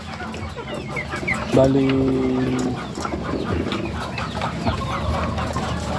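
Backyard chickens, part of a flock of sixteen older hens, cluck near the microphone, with a brief rising call standing out early, while someone talks over the farmyard noise.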